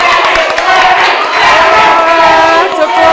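A school audience at a student council candidates' debate responds with loud, close cheering, shouting and scattered clapping in a short, lively burst.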